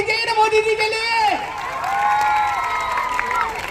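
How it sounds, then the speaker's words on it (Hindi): A crowd applauds and cheers for Modi at an outdoor Hindi-language gathering, a steady wash of clapping and shouts mixed with voices, with someone speaking loudly over the noise. "जोरदार तालियां होनी चाहिए ना मोदी जी के लिए"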